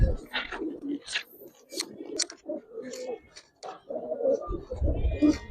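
Giribaz racer pigeons coo in a loft, several soft, close, throaty coos repeating in irregular bursts, with a voice speaking between them.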